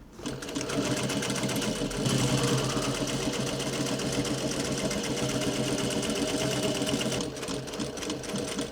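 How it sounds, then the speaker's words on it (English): Sewing machine running a long top stitch down a seam on a pair of dungarees, a loud, steady, fast mechanical whir that holds without a break for several seconds. "we're actually going to run a little top stitch all the way down this point right here"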